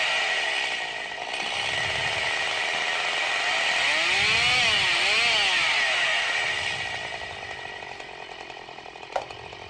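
Chainsaw runs loud and close with a sustained buzzing whine that rises and dips in pitch mid-way as it revs, then settles, with a sharp click near the end.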